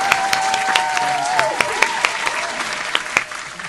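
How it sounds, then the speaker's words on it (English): A small group claps briefly at a live writers' call-in show, scattered sharp hand claps over a sustained tone, with a few voices murmuring underneath. "Let's clap that up again."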